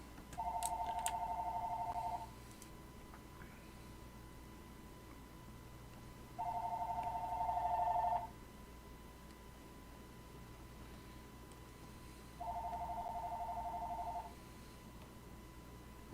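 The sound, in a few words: speaker's phone ringing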